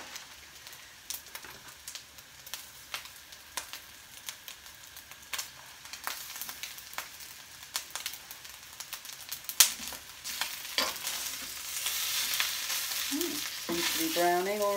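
A vegan four-bean chilli mixture frying in a pan while being stirred, with a close crackling sizzle and scraping stirs that grow louder and denser toward the end; no talking.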